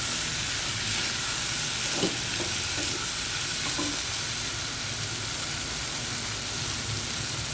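Beef asado with soy sauce and oyster sauce is stirred in a pan, a steady close sizzle of frying with a few soft scraping stirs and light clinks breaking through the constant crackle.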